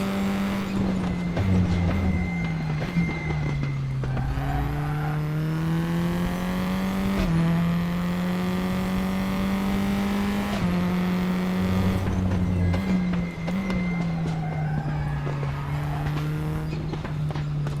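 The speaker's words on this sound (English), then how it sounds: "Love the tyre sounds!" Race car in the RaceRoom racing game, a steady loud engine drone with shifting pitch and tyre sounds running continuously, alone without talk.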